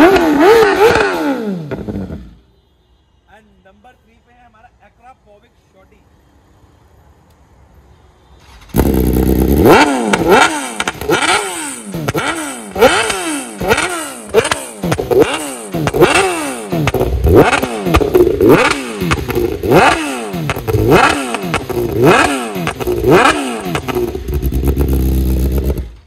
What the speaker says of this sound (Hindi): एंड नंबर 3 पे है हमारा एक्रा